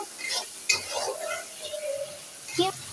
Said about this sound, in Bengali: এই দেখো মশলাটা সুন্দর করে কষে নেব।